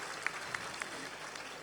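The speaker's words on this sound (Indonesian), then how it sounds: "Tepuk tangan semuanya." At an appointment-decree handover ceremony, an audience gives a soft, steady patter of applause that sounds faint and somewhat distant, with a few slightly sharper claps standing out.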